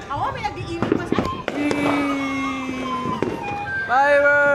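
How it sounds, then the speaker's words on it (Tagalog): New Year's Eve firecrackers and fireworks pop and crackle nearby in several sharp bursts, mixed with excited shouting, whistles and voices of a celebrating family crowd. "Fireworks!"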